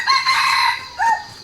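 Rooster crowing on a rural farm in Laos, a loud close call followed by a shorter second crow.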